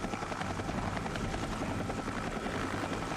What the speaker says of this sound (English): using large CH-46 and 47 helicopters to deploy 105mm howitzers to landing zones within range of the communist positions